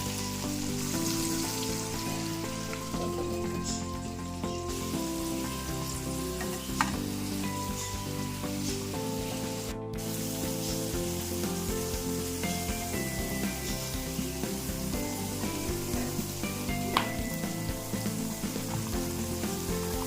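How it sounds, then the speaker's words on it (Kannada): Crispy corn snack pieces fry in oil over a low flame, a dense, continuous bubbling sizzle like light rain, close and steady throughout with faint occasional clinks. "ನೀವು ಇದನ್ನ ಎಣ್ಣೆನಲ್ಲಿ ಕರ್ಕೋಬೇಕಾಗತ್ತೆ"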